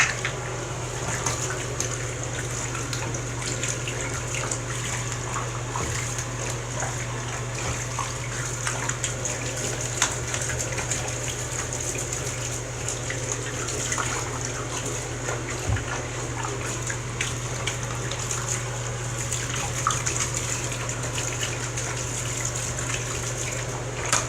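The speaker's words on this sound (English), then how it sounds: "Wash the blades in here." Water runs steadily from a tap into a tub while the blades of a Lasko Cool Colors box fan are washed, a constant loud rushing gush with faint clinks and a low hum underneath, no talking.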